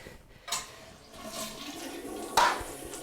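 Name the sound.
toilet tank draining with flush handle held down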